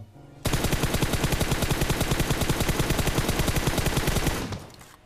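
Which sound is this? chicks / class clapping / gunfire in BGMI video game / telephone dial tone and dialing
gunfire in BGMI video game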